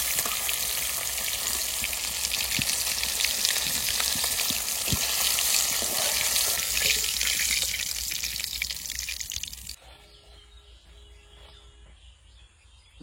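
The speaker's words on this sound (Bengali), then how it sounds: "এবার ইলিশ মাছটা ভেজে নিই" Hilsa fish fries in a pan with a dense, steady sizzle and crackle of hot oil for about ten seconds, then the sound drops away to near quiet.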